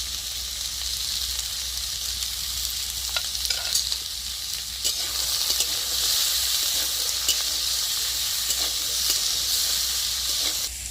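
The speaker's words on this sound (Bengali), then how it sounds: "কাঁঠাল বীজ আর আলুটা কষা হতে হতে" Jackfruit seeds and potato sauté in a pan with a little salt and turmeric, giving a steady close sizzle and hiss with faint stirring scrapes and no talking.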